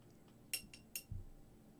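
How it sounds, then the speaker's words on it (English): A glass of paint thinner gets tapped while a paintbrush is rinsed in it, three quick, light clinks close together followed by a soft knock, all quiet against a hushed room. "When you hear the tap of the glass, I'm just rinsing off my brush, getting some more of the thinner."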